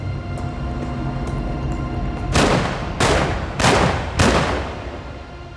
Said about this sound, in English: The gunmen came in and began firing.